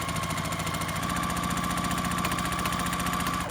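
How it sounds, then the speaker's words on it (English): A sewing machine runs without pause, joining a light blue and a white fabric triangle into a half square triangle quilt block, giving a close, even motor hum with a fast rhythmic mechanical pulse. "I'm just going to sew these together"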